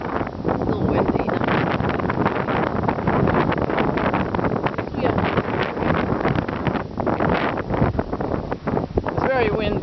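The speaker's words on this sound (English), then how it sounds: "Still windy." Strong wind gusts buffet the microphone steadily while descending Mount Jefferson, a loud continuous roar with voices talking over it.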